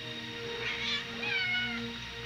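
Indoors, a house cat gives a couple of drawn-out, wavering meows, fairly close and clear, over a steady low hum, with no talking over it.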